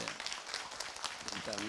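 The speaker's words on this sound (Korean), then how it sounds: "나오실 때 한번 박수로 환영해 주십시오." A church seminar audience claps to welcome a pastor to the front, a dense, continuous patter of many hands, with a voice speaking over the applause toward the end.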